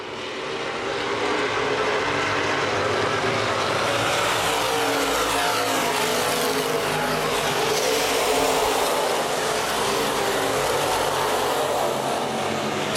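Open wheel modified race cars roar past on a speedway, a loud, continuous pack of engines droning and swelling together with no break.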